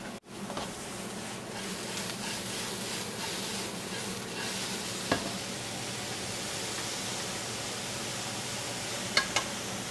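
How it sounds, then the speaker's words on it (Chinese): Chow mein with bean sprouts being stir-fried in a wok, a steady broad sizzling hiss running throughout with a few faint scrapes and clinks of stirring, no talk. "落埋啲芽菜落去"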